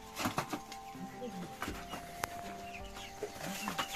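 Chickens cluck repeatedly at close range while being tipped out of a box, with quiet voices talking in the background.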